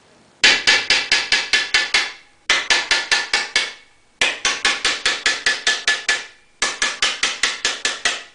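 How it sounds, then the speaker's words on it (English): Rapid, light hammer taps on a metal car fender panel in four bursts of about eight to ten quick strikes each, crisp and close, with short pauses between runs. "I got a really light hammer and I'm holding it way choked up."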